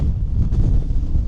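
Strong wind buffets the microphone outdoors on Alcatraz Island on a cold day, a steady loud low roar with gusty rumble and no voices.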